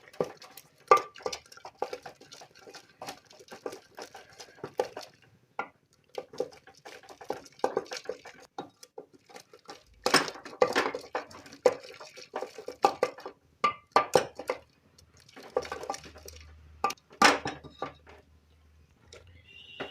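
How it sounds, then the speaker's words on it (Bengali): A dal masher works tomato into cooked dal in a metal pot, making irregular wet squelches, clinks and knocks against the vessel in uneven bursts with short pauses, fairly close and moderately loud. "তখন আমি ডাল ঘুটনির সাহায্যে টমেটোটা গলিয়ে দেবো"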